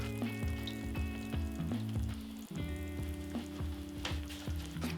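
A pan of Japanese nikujaga meat and potato stew sizzles steadily after soy sauce and blanched konnyaku noodles go in, a close, continuous frying hiss under soft stirring and faint tonal background hum.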